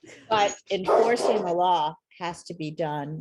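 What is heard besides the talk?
dog barking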